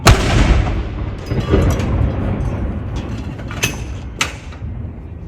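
Royal Artillery saluting guns firing at Edinburgh Castle for the King's birthday: a sharp, booming report opens the clip, then rumbling echoes roll away, with later smaller cracks in the reverberant outdoor air.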